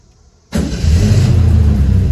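A car engine cranks and catches after a half-second of near silence, then settles into a loud, close, steady idle rumble.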